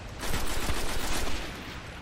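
Bursts of rapid gunfire in Destiny, loud and close, swelling for about a second before fading into background noise.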